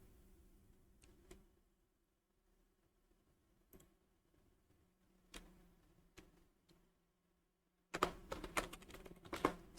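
Sparse keyboard clicks while Java code is typed on a computer, isolated taps spread across a quiet stretch, then a dense burst of rapid, louder clicking near the end.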